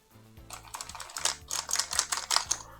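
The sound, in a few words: small brush cleaning dirt between keyboard keys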